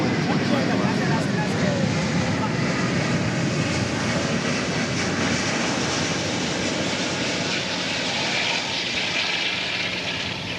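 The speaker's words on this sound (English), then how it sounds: "That's the Airbus A380 Speedbird on final approach from London." British Airways Airbus A380 on final approach, a steady loud broadband engine roar that holds evenly throughout, close and unbroken.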